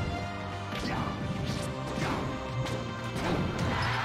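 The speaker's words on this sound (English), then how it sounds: "Oh, gets the F smash tipper." A Marth forward smash tipper lands in Super Smash Bros, a sharp crashing hit amid a steady stream of game effects, with several whooshing strikes and thwacks spread across a few seconds.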